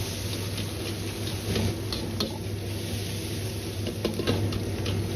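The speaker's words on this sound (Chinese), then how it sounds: "下入剁好的肉末翻炒" Minced pork stir-frying in a little rapeseed oil in a hot wok, a steady close sizzle with scattered scraping stir strokes and light metallic ticks throughout, no voices.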